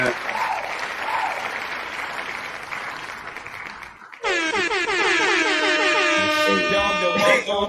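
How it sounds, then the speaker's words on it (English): Applause for a guest on a show, steady clapping for about four seconds, then cut off by a loud blaring air horn sound effect that holds until the end. "I can't go without, you know what I'm saying, giving my man applause"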